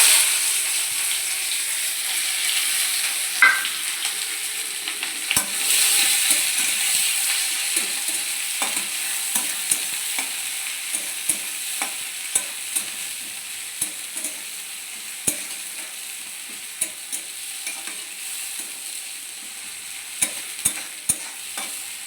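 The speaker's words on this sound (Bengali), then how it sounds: "দিয়ে পেঁয়াজগুলো এবার লাল লাল করে ভেজে নেব।" Onions fry in hot oil with green chilli and bay leaf, a loud steady sizzle that slowly softens, punctuated by frequent sharp ladle clicks and scrapes against the pan, up close with no talking.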